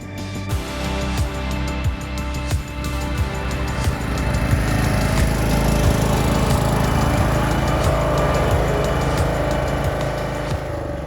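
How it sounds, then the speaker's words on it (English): A lawn mower drones loudly and steadily while cutting grass. Its engine stays close for the whole stretch, with small rhythmic pulses and no voices. "How long have you been mowing the grass?"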